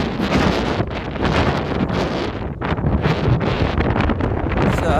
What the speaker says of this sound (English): It's super windy right here.